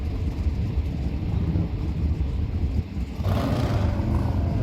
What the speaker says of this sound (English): Got a couple of drag bikes here.